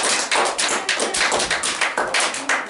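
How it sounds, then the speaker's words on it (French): Children clap together in a burst of uneven, fairly loud hand claps over nearly three seconds, with no talking. "Oui, applaudissez maintenant."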